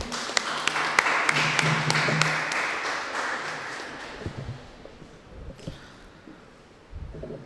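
Audience applause greeting a speaker at an astrology seminar in Salem, with a burst of clapping that fades over several seconds into scattered taps and room murmur.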